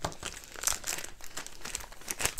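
A plastic bag holding a diamond art canvas crinkles continuously during an unboxing, with bursts of crackly rustling close to the mic and no speech over it.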